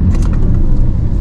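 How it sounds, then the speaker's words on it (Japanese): A Porsche 911 engine catching at start-up, settling into a loud, steady low rumble close by with a brief brighter whirr at the outset, and no voices over it. "まずこのエンジンをかけた時の音なんですけど、キュンキュンキュンキュンキュンキュンっていう音がするんですけど、これ他の車にはない音です。"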